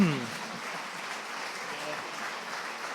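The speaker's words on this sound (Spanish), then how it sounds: "Pues le damos un aplauso." Audience applause at a talk on Canary Islands export tomato production costs, a steady wash of clapping following a brief voice at the start.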